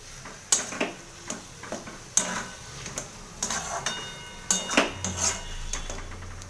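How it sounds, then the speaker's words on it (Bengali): A ladle stirs a fenugreek-spiced cauliflower paratha filling in a kadai, giving irregular metallic clinks and scrapes against the pan at close range, with no talking. "ভালো করে নাড়াচাড়া করে নেব"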